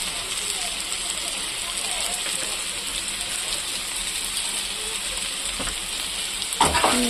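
Food sizzles and fries steadily in a pan, with chillies, cumin powder and coriander powder in the mix. A dense hiss holds from start to end, broken by a few scraping stirs and a louder clatter near the close.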